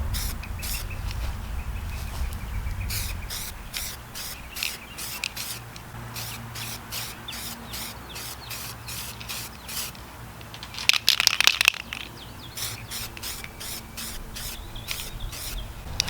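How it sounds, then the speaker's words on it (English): A spray can lays down a light coat of primer on a Reuleaux DNA200 vape mod being prepared for hydrodipping, heard as a close hiss that comes in repeated short bursts, with one longer, louder burst partway through. "now we're going to be doing another coat of primer. Just a light coat."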